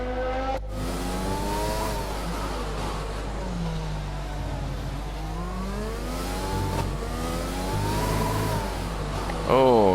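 An F1 car in the racing game F1 20 at the Mexican Grand Prix over-revs, its high engine whine rising and falling through gear changes, loud and continuous for the whole stretch.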